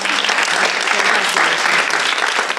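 Loud, sustained applause from a quiz competition audience, dense clapping filling the whole moment and tapering slightly at the end.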